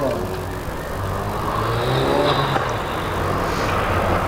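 Craig Dana's Nissan Skyline climbs a hillclimb course, its engine a steady drone that rises and shifts pitch as it accelerates, heard from a distance under a commentator's voice.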